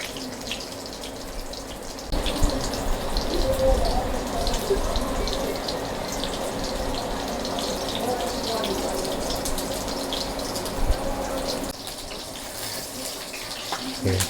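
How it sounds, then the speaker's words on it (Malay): Water heating in a pot toward a boil while eggplant is fried in a home kitchen, giving a steady hissing, bubbling wash of sound that runs continuously at moderate level. "Ni air pun baru nak mendidih."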